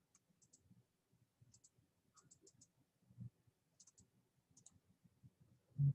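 Computer mouse clicking, a scattered series of light, quick clicks in small clusters, close and quiet against near silence, with a louder bump at the very end and no speech.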